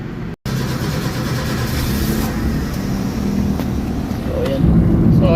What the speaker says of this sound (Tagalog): halos umuugong yung makina.